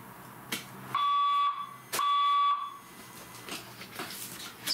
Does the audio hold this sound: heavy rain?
no